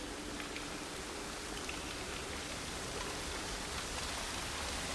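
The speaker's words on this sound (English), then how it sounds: "Waterfall." A waterfall in the video game Dear Esther roars as a steady, dense wash of broadband rushing water, continuous and unchanging throughout.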